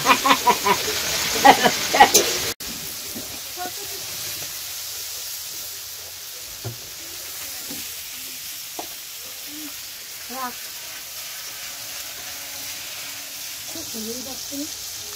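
Curry with potatoes fried first sizzles and hisses in a pan in a village kitchen, loudest in a brief burst at the start and then a low, steady frying hiss with scattered stirring clinks and faint voices.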